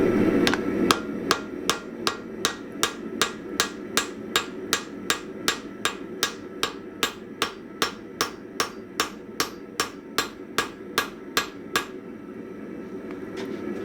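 A hammer strikes hot steel while a bearded axe is forged, about thirty sharp, ringing blows in a steady even rhythm, close and clear, stopping near the end to leave a low background hum.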